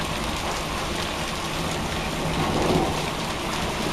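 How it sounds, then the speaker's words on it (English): Hail and rain in a severe thunderstorm rolling into Tornado Alley, a constant dense hiss of pelting precipitation with faint low rumble, loud and steady throughout, no speech. "the thunderstorm follows, and we're getting a little bit of hail here"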